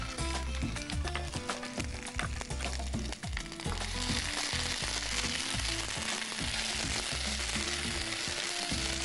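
Onion sizzles and crackles loudly in hot oil, with dense popping and bursts of stirring scrapes against the pan.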